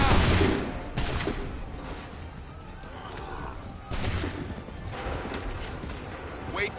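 Musket volleys from Assassin's Creed 3 battlefield, a loud crack opening and further sharp volleys around one and four seconds over a steady rumble of battle noise, with horses and shouting mixed in.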